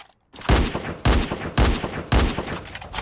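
Bursts of rapid gunfire from the Free Fire mobile battle royale game, four loud volleys fired back to back with brief gaps between them, no voice over them.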